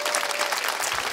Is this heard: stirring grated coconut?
no